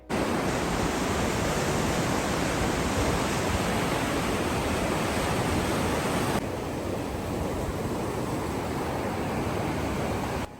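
Takakkaw Falls, a tall waterfall in British Columbia fed by meltwater from the Daly Glacier, roars as a dense, steady broadband rush of falling water, loud and unbroken throughout, with its bright upper hiss softening partway through.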